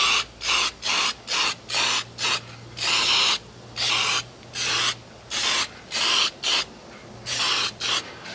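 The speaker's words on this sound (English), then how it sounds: "I'm going to etch prime that, although I think I'm nearly out of pretty much every aerosol I have." An aerosol can of etch primer sprays in a rapid series of short hissing bursts, about a dozen close, loud spurts with brief gaps, while restoring a rusty 1985 Toyota Land Cruiser.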